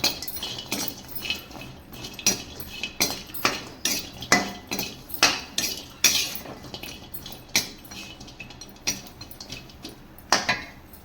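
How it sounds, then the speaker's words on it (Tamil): Roasted kudampuli being moved from a pan into a vessel, with a steady run of bright metal utensil clinks and scrapes, close and fairly crisp, each clink a sharp separate tap with no talking. "எடுத்து ஒரு பாத்திரத்தில் மாற்றிக்கலாம் பிளேட்டுக்கு"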